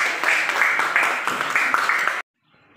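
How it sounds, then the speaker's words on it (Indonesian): A classroom of students applauding their classmates, steady brisk clapping in pulsing waves for about two seconds, then cutting off abruptly into near quiet. "tepuk tangan untuk teman-teman kalian yang sudah"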